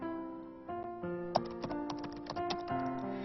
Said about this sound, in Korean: 늦은 밤 키보드 소리만이 요란하게 울렸다.